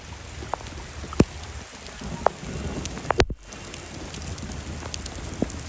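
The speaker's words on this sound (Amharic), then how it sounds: "ቤተሰቦች ዝናብ እየዘነበ ነው።" Steady rain falls outdoors in a dense, even patter with sharper drops striking nearby surfaces scattered throughout, and no one speaks.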